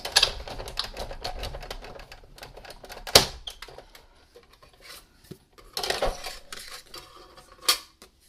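A manual die-cutting machine feeds stacked cutting plates with paper through its rollers, making irregular clattering, ratcheting clicks and scrapes, with louder knocks at intervals and no voices.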